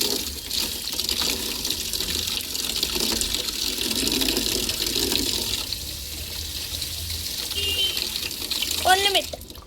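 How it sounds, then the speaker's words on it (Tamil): Water runs steadily from a tap in a constant hissing gush, with a brief squeaky sound near the end. "தண்ணி சவுண்டு கொஞ்சம் இரிட்டேட்டிங்காக இருக்கும்,"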